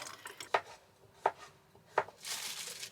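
A knife chops half a zucchini on a board inside a van, three crisp, evenly spaced cuts landing close and clear against a quiet background, followed by a short rustle.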